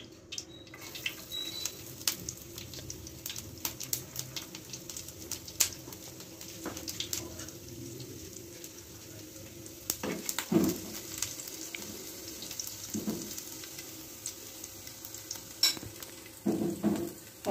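Garlic goes into two to three tablespoons of hot oil. The low, soft frying hiss carries scattered sharp pops and clicks and a few louder crackles near the end.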